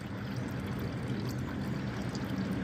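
Oil pours in a steady, unbroken stream during an oil change on a Sinnis GPX125 125cc motorcycle, a continuous close gurgling flow with no talk over it.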